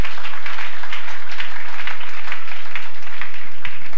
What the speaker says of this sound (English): Somebody clap for Jesus.